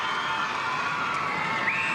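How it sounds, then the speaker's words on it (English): A crowd cheers and shouts at a 2001 Commonwealth Bank Trophy netball match between the Perth Orioles and Adelaide Ravens at Challenge Stadium in Perth, a steady, moderately loud wash of voices with a few higher calls rising out of it. "And the crowd getting into it here at Challenge Stadium in Perth"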